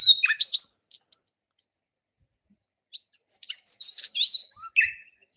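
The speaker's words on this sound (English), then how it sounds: "This bird is strong. He's got a family to help. He's calling out to the ladies." A bird calling in two bursts of bright, quick chirps and warbling whistles, a short phrase at the start and a longer run a few seconds later, close and clear against silence.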